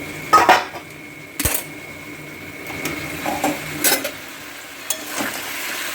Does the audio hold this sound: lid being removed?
yes